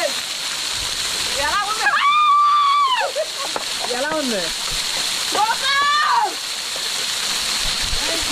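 Rushing water pours and splashes continuously at Paruvu Bandalu waterfall deep in the Nallamala forest near Srisailam, a steady broadband roar sitting close under excited voices talking and calling out over it.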